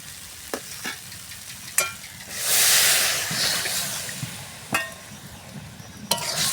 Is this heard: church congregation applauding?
no